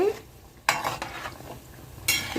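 Kakinada gottam kaja sweets frying in hot oil, a low steady sizzle with sharp bursts of bubbling and spatter near the start and end, close and fairly loud, with no talking.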